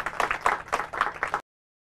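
Audience applause at a quiz show after a correct answer, a short, fairly sparse round of clapping with irregular pulses lasting under a second and a half before cutting to silence.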